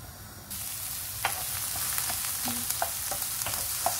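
Chopped onions sizzle steadily in hot olive or vegetable oil in a pan, a continuous close hiss with a few soft clicks of stirring and no voices.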